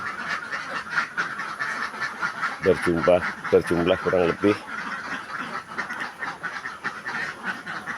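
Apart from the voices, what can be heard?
ducks quacking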